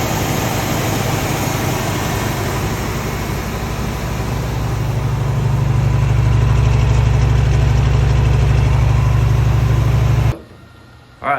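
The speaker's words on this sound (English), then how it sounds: "As you can hear, the motor sounds great." Engine of a Norra 1000 race-build vehicle idling steadily after a cold start, a loud, close, even drone that rises slightly then cuts off abruptly near the end.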